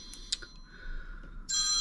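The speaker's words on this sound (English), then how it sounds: "Phone's going off." A phone rings close by, with a faint chirp early on before the ring tone comes in strong near the end.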